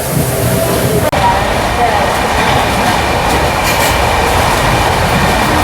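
Tirupati–Bhubaneswar weekly superfast express train in motion, with a steady loud rumble and clatter of carriages on the rails. It carries on throughout with only a brief dropout near the start.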